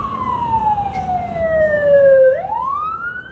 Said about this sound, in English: You hear the fire truck, yeah?